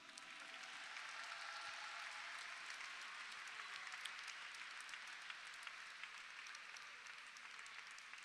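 An audience at a school pastoral gathering applauds continuously. The dense clapping is fairly distant and faint and holds an even level throughout, with no voices over it.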